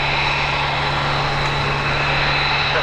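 An F-22 Raptor jet on a high-speed taxi at RAF Lakenheath gives off a steady, broad engine roar with a faint whine, heard at a distance and without pause.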